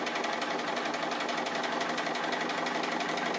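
A sewing machine stitches a tree applique quilt, its needle running in a steady, fast, even buzz throughout, close and loud with no talking.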